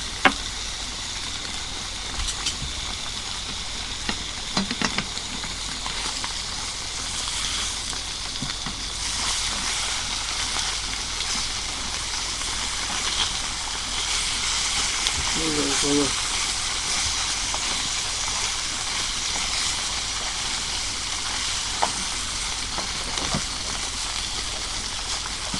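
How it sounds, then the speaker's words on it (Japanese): Thick fried tofu (atsuage) stir-fries in a pan, giving a steady, even hiss of sizzling that runs the whole time, with a few faint clatters and a person talking now and then over it. "今日は生揚げ炒めです。"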